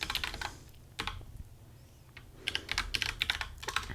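Typing on an iPad produces a quiet run of light, irregular taps, with a short pause before a denser burst of quick keystrokes, close and alone.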